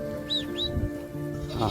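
Sheep, lambs, goats and kids bleat close by against a steady outdoor background, with a couple of short high chirps early on.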